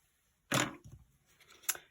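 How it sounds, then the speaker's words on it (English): Scissors snip through paper cardstock for a stamped flower card, two crisp close cuts with a quiet pause between, the first louder and the second a short sharp snip. "So then I'll just take my scissors"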